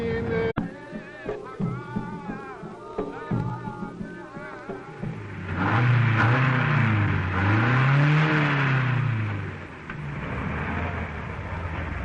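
A car driven through the desert around Abu Dhabi in the 1960s, its engine swelling into a strong revving rise midway and then easing off, with music playing over the first part.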